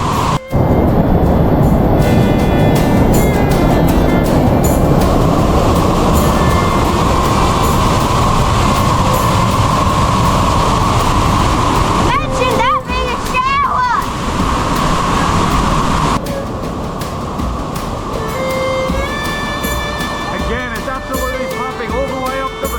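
Swollen waterfalls after heavy rain roar in a constant loud wash through a glowworm cave, with voices talking over the rushing water.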